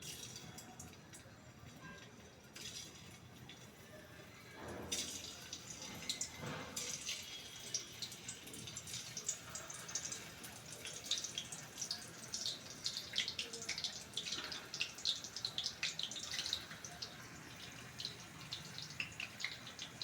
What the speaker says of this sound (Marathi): आता तेलही चांगलं गरम झालेलं आहे आता आपण ह्याच्यामध्ये एक एक करून वडी सोडून घेऊ